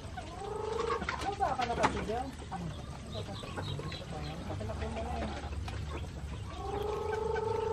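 Chickens cluck and squawk close by while being fed mulberries on a farm, busy overlapping calls with a few louder bursts, under a steady ambient bed.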